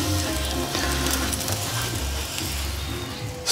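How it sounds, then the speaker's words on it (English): Beer-soaked bratwurst sausages with onions simmer in a pot on a Kamado Joe grill, giving a steady, close bubbling sizzle with faint clinks and rattles throughout, no voices. "Then that can simmer down, cooking the sausages through."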